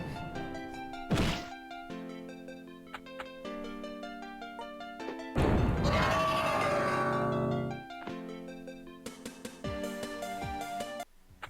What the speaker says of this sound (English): It's just a lot of bomb chucking.